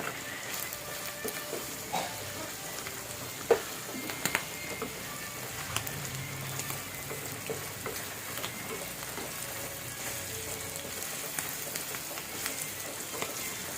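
Pork adobo with taco powder sizzles gently in a frying pan. The low, continuous frying hiss is broken by occasional scraping and clinks as it is stirred.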